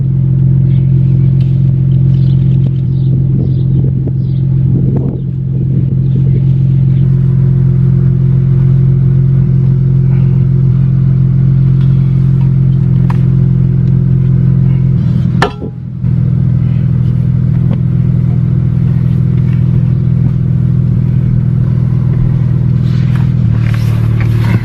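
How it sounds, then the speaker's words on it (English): A started car engine idles steadily with a deep, loud, continuous drone, a few clanks and rattles breaking in, and a brief sharp knock near the middle, with no one speaking. "got the car started up"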